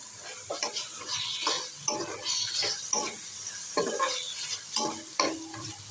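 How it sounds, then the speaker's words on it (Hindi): Onions frying in a pan for a capsicum recipe, with a soft continuous sizzle under frequent close scraping and tapping strokes of a spatula stirring them. "थोड़ी देर प्याज को पकाएंगे हम"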